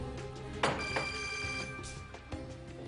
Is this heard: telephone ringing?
yes